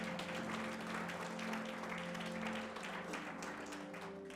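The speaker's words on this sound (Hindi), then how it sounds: "क्यों ना जोर से ताली बजाए।" An audience at a church ministry service applauds: dense, continuous clapping for several seconds, fairly faint and distant, with no clear voices over it.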